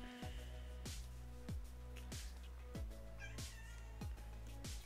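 A pet cat, a kitty, meows repeatedly indoors, roughly six loud, clear calls spaced about every two-thirds of a second, each falling in pitch.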